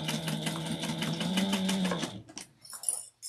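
A sewing machine stitches a half-inch fabric seam in a steady rapid run of needle strokes, then stops abruptly partway through, leaving brief quiet handling noises.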